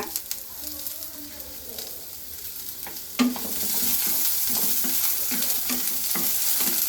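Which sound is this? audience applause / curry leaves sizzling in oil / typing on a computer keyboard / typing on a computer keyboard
curry leaves sizzling in oil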